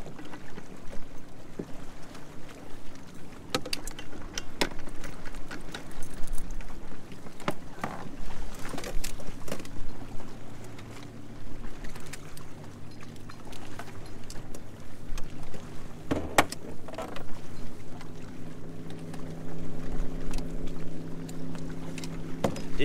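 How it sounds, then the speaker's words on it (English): Boat motors drone and pass by on open water, with splashes and wind buffeting the microphone along the way. "the boat traffic hasn't stopped all day"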